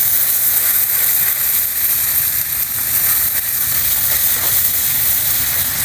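Milk poured a little at a time into a hot pan gives a loud, steady, close sizzle and hiss that holds evenly for several seconds with no talk.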